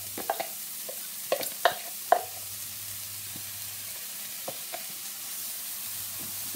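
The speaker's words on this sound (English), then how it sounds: "I'm going to fry off my onion" Chopped onion fries in a large pan sprayed with Fry Light on a hob, giving a soft, steady sizzle with a few sharp clicks and scrapes from stirring.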